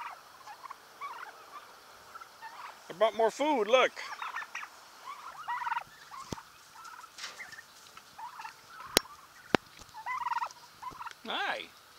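Turkeys gobble in loud, warbling bursts, several birds calling close by, while a person talks over the flock between calls.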